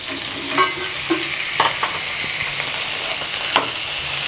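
Boiled peas and mashed potato are mixed into masala in a pan for a stuffing, a low sizzle under a handful of irregular spoon knocks and scrapes, loud and close, without speech.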